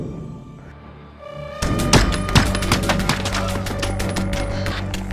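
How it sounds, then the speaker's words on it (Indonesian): Film-scene gunfire comes as a rapid, loud burst of shots after a quieter, low-rumbling lead-in, with sharp cracks repeating densely for several seconds. "Di rumah, Ryan menembak tanpa henti ke arah para penyusup"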